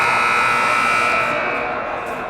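A loud, sustained electronic buzzer sounds at the end of a period in a 15U AAA youth ice hockey game, holding steady before slowly fading, with crowd noise underneath.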